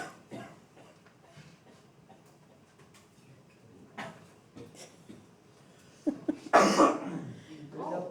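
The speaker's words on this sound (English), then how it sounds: "You got a cough" A single loud cough bursts out in a math classroom after a stretch of quiet murmuring and scattered small noises, followed by a few fainter sounds.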